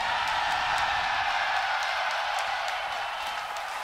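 Large crowd of fans cheering and applauding at an esports venue during a The International 2017 Dota 2 match, a steady loud roar with scattered claps throughout.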